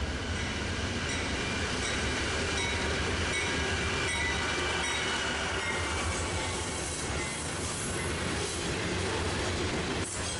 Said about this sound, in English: last train to close off the night was another BNSF coal train, this time with a Dash 9 leader